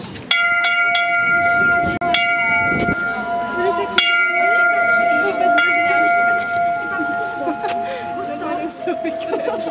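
People take turns ringing a bell at a Christian celebration in Lomnice, with repeated clear metallic strikes whose tones ring on between hits, while people talk in the background.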